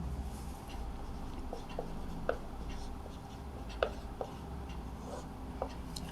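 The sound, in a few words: writing down a matrix by hand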